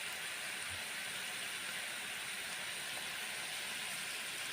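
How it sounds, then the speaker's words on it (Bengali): Tomato paste frying with spices in a pan for a catfish (magur) curry, a steady hiss and sizzle that holds evenly and fairly loud throughout, with no voices. "টমেটো ভেজে নিচ্ছি"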